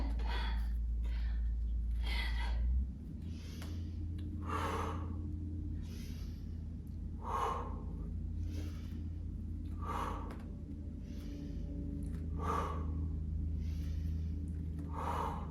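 Heavy rhythmic breathing during squat exercises in a workout session, with sharp, gusty exhales and inhales recurring roughly every one to two seconds, close to the microphone, over a low steady background hum.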